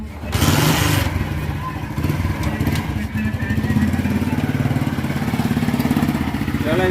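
An old motorcycle starts while left in gear, the engine catching with a loud burst and then chugging steadily at close range, its rhythmic mid-pitched putter running throughout.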